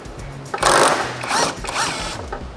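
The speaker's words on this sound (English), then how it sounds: "Sometimes you can break it loose with an impact." An impact wrench fires in short bursts on a 19mm nut during a lift kit install on a 2024 Toyota Tacoma, three loud rattling hammer bursts, each under a second, over a quieter background with no talk.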